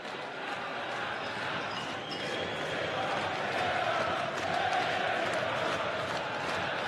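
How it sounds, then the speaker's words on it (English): An Australian darts crowd at a Melbourne masters semi-final fills the arena with a steady, dense roar of cheering and chatter that swells slightly midway and holds throughout. "No doubt who the Aussie crowd are behind."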